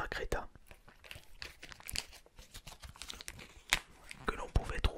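Lapins Crétins sticker booster packets from Panini are torn open up close, with sharp crinkles, crumples and rips of paper wrappers in uneven bursts, alongside soft whispered talk.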